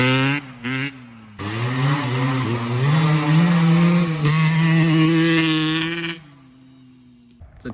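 A dirt bike engine idles, blips twice, then revs up loud and holds a high, raspy whine for several seconds before dropping back to a low idle, close by.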